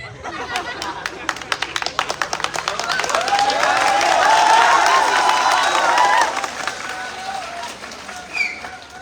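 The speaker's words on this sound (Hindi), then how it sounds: "ताली बजा रहे थे।" A group of children claps, a sharp scattered patter that swells into dense steady applause near the middle and then thins out, heard close and fairly loud.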